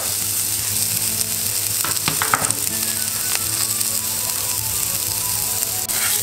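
Spring onion frying in olive oil in a pan, a steady close sizzle with crackles and a few sharper pops around the middle, no talking.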